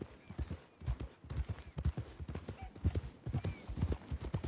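Horse hooves clip-clop at a steady walking rhythm in the Red Dead Redemption 2 video game, each footfall a clear close knock, with quiet ambience underneath.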